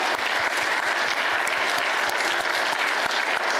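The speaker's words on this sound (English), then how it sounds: "We want to give you a round of applause" Steady, dense applause from a sizable crowd at an information assurance forum session fills the whole stretch, loud and close without a break.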